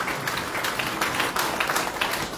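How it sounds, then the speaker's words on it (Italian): Audience applause for the priest Don Martino at an honorary citizenship ceremony in Postiglione, a continuous patter of clapping from a gathered crowd at moderate volume, without voices. "facciamo un applauso a Don Martino"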